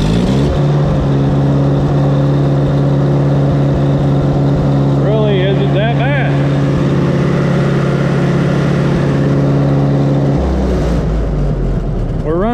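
A 1955 International 300 tractor engine runs rich at high idle, a loud close steady drone with strong low harmonics, a brief rising whine partway through and a drop in pitch near the end, with voices talking over it.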